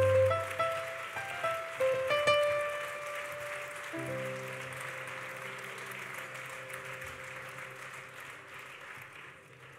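Audience applause at an award ceremony, a broad steady wash of clapping that carries on for about ten seconds beneath swelling orchestral music, strongest at the start and slowly tapering.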